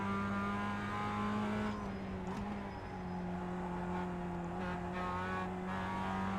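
A Mazda race car with a sequential gearbox in iRacing at Summit Point's Jefferson circuit, its engine holding a loud, steady high-revving drone throughout, with slight pitch shifts and faint tire noise, close and continuous.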